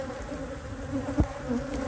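Honey bees buzzing steadily around a hive with a honey super in an apiary. The hum is a continuous, close drone with one brief louder pass, and no voices are present.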